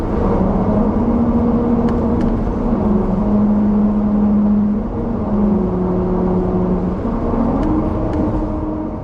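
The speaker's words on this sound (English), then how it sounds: "Grooves cut into the pavement on National Route 252 play the song as your car's wheels roll over it" A car rolls over musical grooves cut into the pavement of National Route 252 in Fukushima, and the tyres ring out a slow droning melody of sustained pitched tones over loud, steady road rumble.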